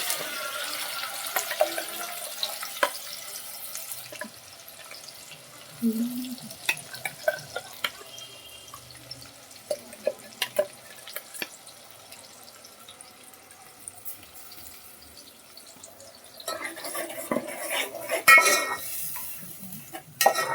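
Ground green masala of coriander, onion, tomato and green and red chillies being stirred and fried in oil, with irregular clinks and scrapes of a spoon against the pan over a low, quiet sizzle, louder stretches near the end, no voices.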